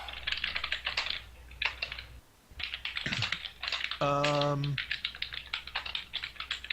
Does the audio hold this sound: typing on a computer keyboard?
yes